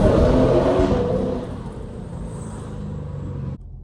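A Lexus RC F driven at night, heard from inside the cabin: a low engine and exhaust rumble that swells at first, then eases into a steady cruising drone before cutting off abruptly.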